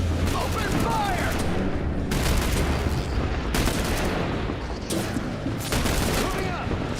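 Heavy sustained gunfire in the squad shooter The Bureau, loud overlapping bursts and booming shots filling the scene in near-continuous waves, with short lulls between volleys.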